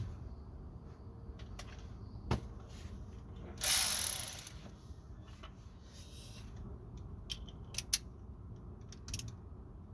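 Ratchet wrench clicking during drop link replacement on a Ford Fiesta Mk7, with scattered faint clicks over a quiet background and one louder burst of ratcheting near the middle, no talk.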